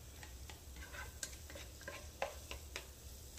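Onions and garlic are stirred constantly in a pot with melted butter, giving a quiet rhythmic scrape and clink of the utensil against the pot over a faint sizzle.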